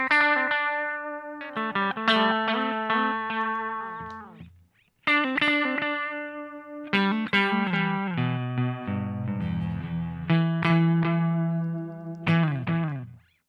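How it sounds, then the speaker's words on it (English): Electric guitar through a Strymon Timeline delay pedal in D Tape mode, playing rhythmic chords and single notes with a short, warbly slapback echo that gives only one or two repeats. The playing is loud and close, with a brief pause midway and no talking. "So that cool slapback kind of sound going on, a fairly warbly kind of sound, but not too many repeats"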